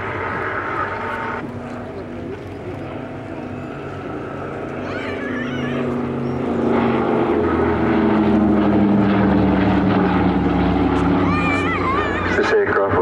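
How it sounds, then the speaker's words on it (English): A Douglas Dakota C-53 Skytrooper propeller aircraft flies at an airshow, its steady piston-engine drone swelling louder as it passes, with a commentator talking over it throughout. "This aircraft was built as one of the many, many variants as a C-53 Skytrooper."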